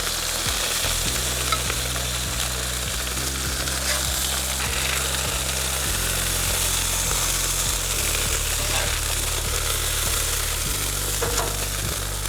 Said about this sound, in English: As soon as I move it over, there's a little bit more of a sizzle.